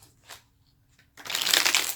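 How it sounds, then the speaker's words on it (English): Tarot cards riffle in a close, dense shuffle that lasts about a second, following a quiet lead-in with a couple of faint soft rustles. "One last shuffle."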